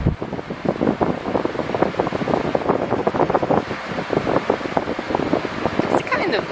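A Jan Fan shop fan runs on its highest setting, producing a steady, loud rush of blowing air with gusty fluttering throughout, close to the microphone.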